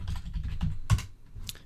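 Quick keystrokes on a computer keyboard while entering a command at a command prompt, a short run of light, close clicks with one firmer key press near the middle, no talking.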